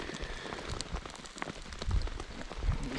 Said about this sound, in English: Of course it starts to rain more and more as I try and light this fire.